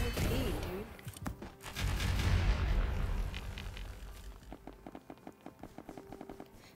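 In the Roblox video game, a carrot launcher weapon fires in a dense, explosive burst that fades into a scattered rattle of rapid shots, fairly faint overall.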